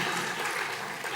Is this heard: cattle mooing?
no